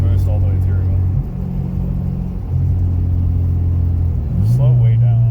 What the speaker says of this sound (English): You gotta do a second gear pull because I want to see if it holds boost all the way through